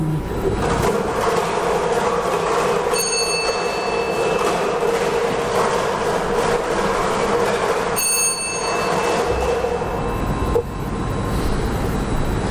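Continuous loud mechanical rumble and whir of a spinning Lao lottery number drawing machine, with brief bell-like ringing tones appearing twice over the steady drone.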